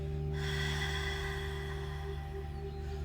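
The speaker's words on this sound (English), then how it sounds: "focus on breathing through the back of your throat, kind of like you sound like you're Darth Vader" A slow, breathy ujjayi yoga exhale rasps through a constricted throat for about two seconds, close and soft, over a steady low electrical hum.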